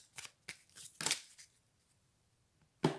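Tarot cards are shuffled by hand in quick riffling bursts near the mic, a few flurries followed by a lull and one final sharp shuffle, with no talking.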